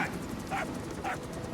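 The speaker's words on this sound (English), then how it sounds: "Here's the dog you brought back." A puppy in Metal Gear Solid V: The Phantom Pain gives three short, high yips spaced about half a second apart over a steady layer of game background noise.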